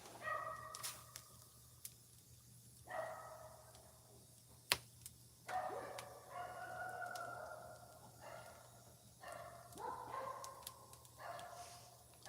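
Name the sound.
dogs barking in the distance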